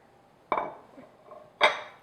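Spoon strikes against a mixing bowl while carrot muffin batter is stirred, two sharp clinks about a second apart with soft scraping between them, close and quiet.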